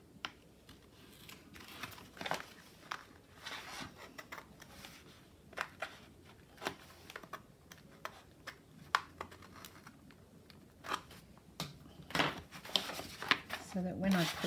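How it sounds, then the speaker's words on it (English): A craft knife cuts through a recycled stationery set paper folder, making scattered sharp scraping and clicking sounds close by against a quiet room, with a few louder handling knocks. "I'll just put my craft knife in the gap and cut through."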